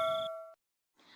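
A single bright chime rings out with a clear, sustained tone, then cuts off into silence before faint noise returns.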